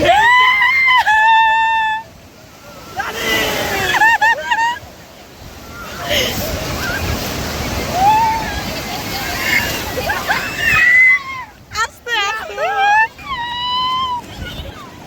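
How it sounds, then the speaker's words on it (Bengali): Sea waves surge and break on Puri beach after sunset, a broad rushing wash that swells through the middle of the clip, with people shouting, squealing and talking excitedly before and after. "ঢেউটা আসছে দেখ"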